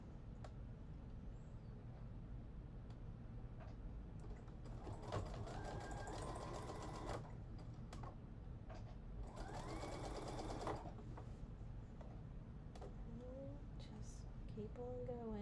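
A sewing machine stitching a little girl's dress made from a man's shirt, running with a steady close mechanical whir and rapid needle rhythm in two longer bursts, with quieter hum and a speaking voice in between.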